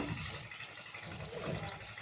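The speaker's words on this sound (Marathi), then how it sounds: "आणि आपल्याला लागेल तेवढं पाणी टाकायचं" Water poured into a cooking pot holding a yogurt, gram flour and lemon mixture, a steady splashing pour that runs for the full two seconds at moderate level, with no voices.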